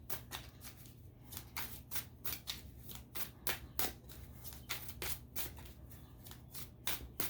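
A deck of cards being shuffled during a card reading: quick, close riffling bursts repeat in a steady rhythm over a faint low hum, with no talking.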